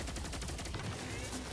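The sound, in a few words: gunfire from a gun shooting in the video game Destiny 2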